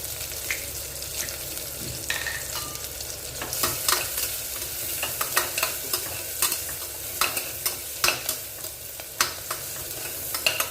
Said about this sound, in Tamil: பச்சை மிளகா வதங்கட்டுங்க கொஞ்சம் லேசாக லைட்டாக